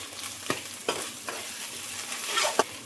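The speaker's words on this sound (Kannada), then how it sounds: "ಇದರ ಹಸಿ ವಾಸನೆ ಹೋಗೋ ತನಕ ವಾಪಸ್ 1 ನಿಮಿಷ ಆಗುವಷ್ಟು ಫ್ರೈ ಮಾಡ್ಕೊಳ್ಬೇಕಾಗ್ತದೆ" Ginger garlic paste frying with browned onions in a pan, a soft steady sizzle broken by several sharp spoon scrapes and knocks at uneven intervals.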